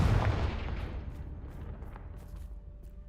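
A Confringo fire spell blasting in Hogwarts Legacy, one loud booming burst up front that rolls off into a fading rumble over about three seconds.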